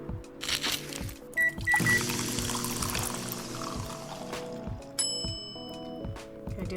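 A green tea latte is brewed in the cafe game Coffee Talk, with a liquid pouring whoosh, bright chiming interface tones and a soft musical background, fairly quiet and without talk.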